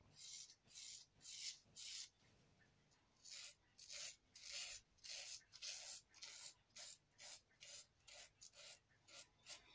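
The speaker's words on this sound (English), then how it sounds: "I normally strop the blade for about 70 laps" A straight razor blade from a restored vintage Empire set is stropped in a steady back-and-forth rhythm, about twenty close, soft rasping strokes evenly spaced and alone without talk.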